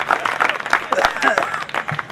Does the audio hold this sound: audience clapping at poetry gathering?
yes